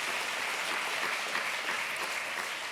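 Steady applause from an audience at a business speech marking fifteen years of Financi'Elles, an even wash of clapping held at a moderate level for the whole stretch with no voices on top.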